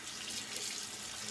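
A tap runs steadily into a sink, giving an even, close hiss of flowing water with no breaks and no voices.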